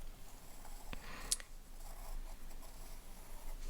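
A feather outline is drawn on paper with quiet, soft scratching strokes up close, broken by one small sharp tap.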